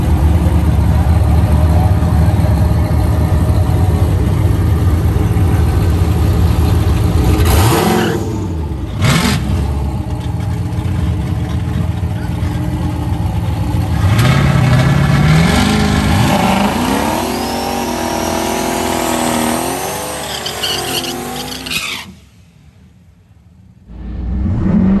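A turbocharged Camaro at a race track, engine loud and close, idling and revving, then pulling away with rising whine under hard acceleration before cutting off sharply near the end.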